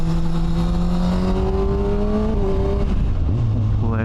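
A motorcycle ridden along a road, its engine note loud and close with a steady drone that shifts pitch as it changes speed, dips, then revs back up near the end, with no talking.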